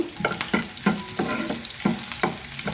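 Crushed garlic and green chillies frying in hot tempering oil, with a steady close sizzle broken by repeated scraping stirs at a brisk, even rhythm.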